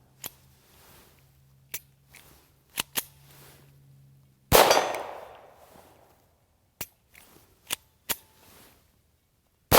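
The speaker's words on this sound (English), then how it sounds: "Now we're going to shoot we're starting into our subsonics. We're going to start off with Aguila 40 grain." TX-22 pistol firing Aguila 40 grain subsonic rounds at a range, several sharp, spaced cracks with one louder shot ringing out, near and otherwise quiet between shots.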